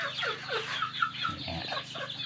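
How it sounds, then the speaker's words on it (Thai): Several chickens cluck and murmur continuously nearby in a coop, a busy chorus of short clucks with a low steady hum underneath. "ไก่ก็เริ่มทยอยมาครับ ตอนนี้"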